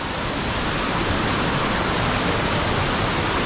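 Palaruvi waterfall, fed by water from the Rosemala forest area, pours down at a bathing spot: a loud, steady, broadband roar of falling water, close and unbroken, with no voices.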